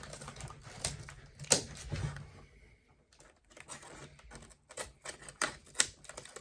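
Crisp, close snips and crunches of scissors cutting through cardboard packaging for an iPad, coming in irregular bursts with short pauses between cuts.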